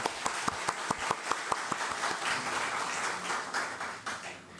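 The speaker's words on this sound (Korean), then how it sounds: "감사의 박수 함께 드리면 감사하겠습니다" A church congregation applauds a visiting pastor during a Sunday service, starting with a few distinct, sharp claps that quickly swell into a softer, dense room-wide applause that gradually thins out.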